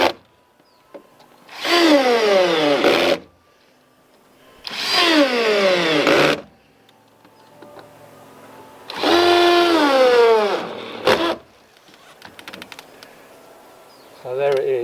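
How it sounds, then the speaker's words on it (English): A power driver with a Pozidriv bit sinks 90mm screws through OSB on a garden building, in three long whirring bursts that bog down as each screw seats, with quieter clatter between and after. "I've changed my Phillips bit to a posi drive, and it's driving these 90mm in a lot more"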